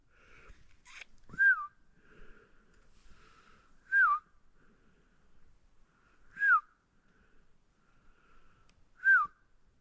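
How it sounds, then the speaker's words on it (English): A person whistles a short rising-falling call four times at steady intervals to draw in a gray jay on a trapline in the woods, each whistle clear and moderately loud against a quiet background. "I thought that whistling brought him in."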